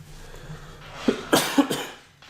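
A person coughs several times in a quick burst, three or four sharp close hacks bunched together after a quiet moment, with no talking.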